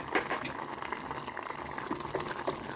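Citron pickle boils in a pan on the stove with a steady, busy bubbling and popping that runs throughout, close and fairly loud, without any talking.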